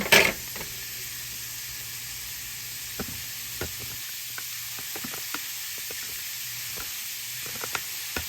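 Oil and grease sizzle steadily in a pan on a stovetop, a soft continuous hiss with scattered scrapes and light knocks, fairly quiet and without talk.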